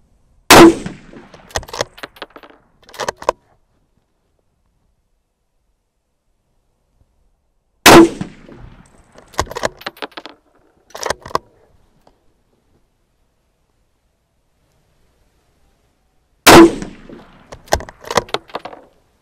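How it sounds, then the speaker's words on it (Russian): Rifle shots fired while testing a GUIDE TU450 thermal scope, three sharp loud reports spaced several seconds apart, each followed by brief mechanical clicks and clatter, with silence in between. "Внимание, выстрел."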